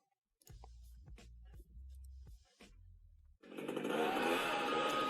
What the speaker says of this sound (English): Steel cutting chainsaw.